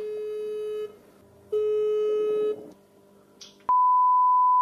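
Telephone tones while dialing a plumber: two long ringback beeps with a pause between, a short chirp, then a sharp click into a steady high tone.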